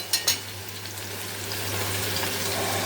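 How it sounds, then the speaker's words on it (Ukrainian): Meat sizzles in a pan, a steady crackling hiss that grows a little louder after a couple of faint clicks. "З двох сторін швидко смажиться."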